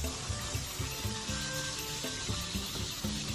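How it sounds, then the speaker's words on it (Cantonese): A knob of butter sizzles in a hot pan around steaks, each resting on a slice of onion. The crackle is steady and close, with dense spitting and popping and no voices. "跟住抌嚿牛油落去。"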